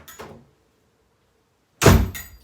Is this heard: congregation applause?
no